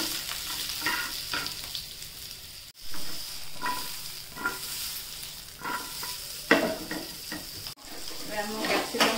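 Capsicum frying in butter in a pan, a steady close sizzle broken by repeated stirring scrapes and clanks of the spatula, with brief pauses.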